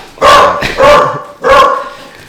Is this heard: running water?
no